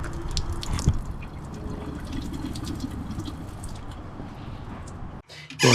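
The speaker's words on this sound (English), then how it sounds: "That's going to depressurize the system and allow the water to continue coming out through the low point drains." Water draining from the low point drains of a travel trailer's plumbing, a steady close trickle with scattered drips and splashes that stops abruptly near the end.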